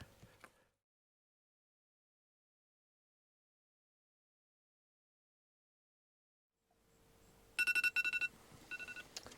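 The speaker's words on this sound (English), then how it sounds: "Hey Siri, stop the timer." A phone timer alarm rings late on, bursts of bright beeping tones in quick repeated groups after a long stretch of silence, fairly close and clear.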